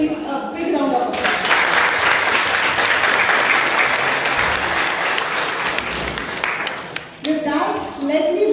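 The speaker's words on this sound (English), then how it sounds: "Give all my sister bees a big round of applause." Audience applause fills an awards ceremony hall, a dense, sustained burst of clapping that swells after about a second and holds steady for roughly six seconds before tapering off, with voices audible briefly at the start and end.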